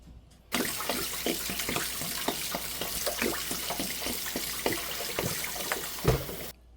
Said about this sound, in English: let's go ahead and wash up our jugs